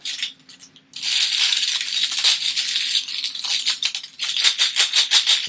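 Cardboard Arkham Horror third-edition tokens shaken inside a cloth chaos bag, a dense clattering rattle in two bursts separated by a brief pause, close and loud, with no one talking.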